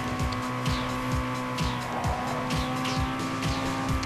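A car spinning out and crashing in Need for Speed Underground 2, steady engine drone under repeated tyre squeals and skidding thumps at a regular beat, loud and close throughout.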